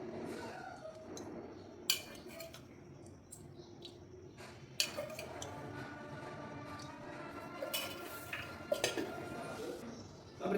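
A kadai set on a stovetop with four tablespoons of oil going in, heard as close clinks and taps of metal cookware with small knocks and faint scraping over a steady low kitchen background hum.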